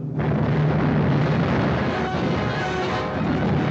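Broadside cannon fire from sailing ships in a 1942 pirate film, a loud, sustained roaring blast that rumbles on through the whole moment with no clear break.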